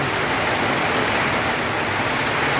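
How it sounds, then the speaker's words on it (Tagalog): Heavy rain pouring down in a dense, constant hiss, loud and unbroken across the whole stretch, with no voices. "Napakalakas ng ulan."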